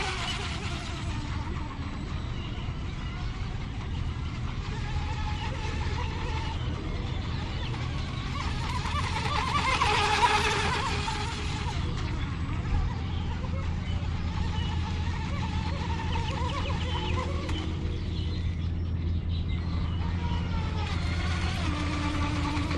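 A small handmade mini hydro RC boat runs on a lake with its motor at light, feathered throttle, giving a steady continuous whine and hum that swells briefly midway, heard alone without talk.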